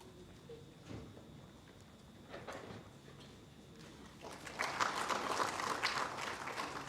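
An audience at a ministerial inauguration ceremony breaks into applause, starting with scattered claps and swelling into fuller, steady clapping toward the end, heard from within the hall.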